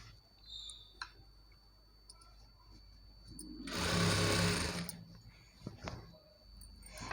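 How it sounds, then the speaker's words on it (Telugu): A sewing machine top stitching a Panjabi dress pant runs in a single steady burst of about a second, close and fairly loud, among quiet handling ticks. "ఇలా టాప్ స్టిచ్ వేసేటప్పుడు కింద చూసుకుంటూ"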